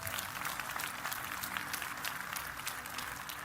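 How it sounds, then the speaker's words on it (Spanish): A church congregation applauds during a sermon, dense sustained clapping from many hands, moderately loud and even from start to finish. "Aplausos a Jesús."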